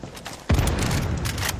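Mortar fire in the video game Far Cry 6, a heavy booming blast that bursts in after a quieter moment and rumbles on with a dense, sustained roar.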